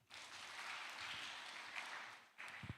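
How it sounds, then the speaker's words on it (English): An audience claps at a conference session, MAN-UP Conference 2024, in a faint, distant patter of hands that runs steadily before a short dip and a brief final burst. "Let us give them a clap again."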